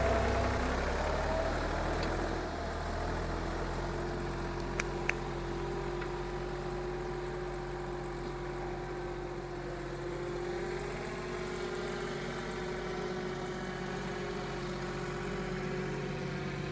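A Massey 260 tractor engine runs steadily with a smooth, even drone that holds unchanged throughout, close by and alone, with no talk.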